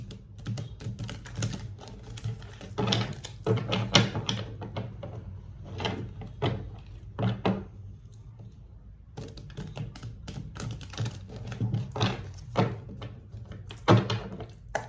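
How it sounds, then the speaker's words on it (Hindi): A deck of tarot cards is shuffled by hand, producing a run of soft, irregular clicking and tapping bursts with short pauses, close and fairly quiet. "जब तक मैं शफल कर रही हूँ"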